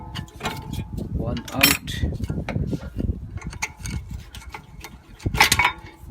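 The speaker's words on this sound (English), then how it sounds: "Just need to take them brake pads off now. By using the screwdriver to just take them out." Metal clinks and scrapes as a screwdriver pries brake pads out of a 2017 Mercedes-Benz C220, close and irregular, with short sharp taps and a brief spoken remark.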